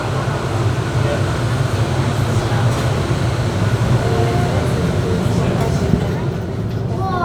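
Miami MetroMover automated train pulling out of Brickell station, a steady loud rumble and hum of the car in motion, with an automated voice speaking over it.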